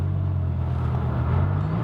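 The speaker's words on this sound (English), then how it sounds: "It's got such a nice sound, especially with that massive 8-litre V10." A 2002 Dodge Viper Final Edition's 8-litre V10 rumbles with a deep, steady low drone, close and loud, holding an even note with a slight rise near the end.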